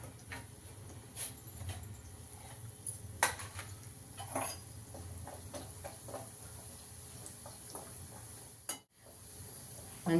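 Fresh grated coconut fries in a little oil in a kadai, a soft, steady sizzle with scattered light clinks and scrapes of a spoon, quiet overall with a short gap near the end.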